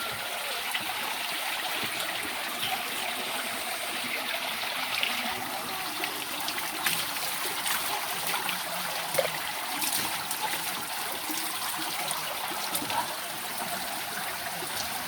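Clear water streams steadily in a traditional village bathroom, a continuous close trickle and gush filling the space without pause.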